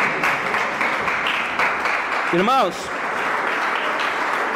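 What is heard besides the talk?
church congregation clapping hands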